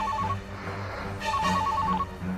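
A telephone ringing with an incoming call, repeated electronic trill bursts, one short burst then a longer ring, fairly loud and close over a low background hum.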